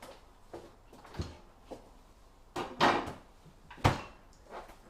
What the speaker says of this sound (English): I'm going to stick these in the freezer now